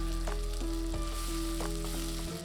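Steady sizzling as small onions and garlic sauté in a pan, with occasional clinks of a utensil stirring, continuous and close with no talking.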